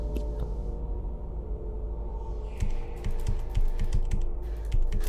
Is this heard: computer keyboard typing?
yes